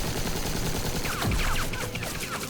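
Gunfire in the Batman: The Enemy Within video game, a brief stretch of rapid shots that sound quiet and muffled within the game's ambience.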